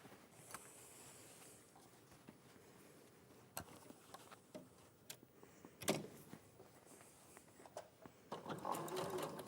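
A sewing machine stitches in the ditch along quilt binding, a steady close mechanical run with brief louder bursts and knocks, ending in a busier stretch of stitching.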